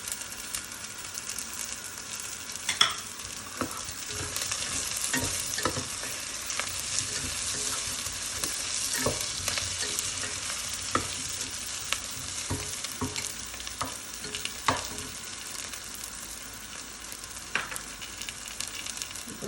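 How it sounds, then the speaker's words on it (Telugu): Deep-fried onions tossed in with browned onions crackle and sizzle in a pan, with frequent sharp scraping and clinking from stirring throughout, no voices. "ఇప్పుడు నేను ముందు డీప్ ఫ్రై చేసుకున్న ఆనియన్స్ ఉన్నాయి కదా, అవి కూడా కొంచెం యాడ్ చేసుకుంటాను"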